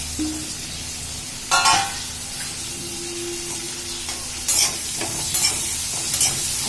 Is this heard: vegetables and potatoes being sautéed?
yes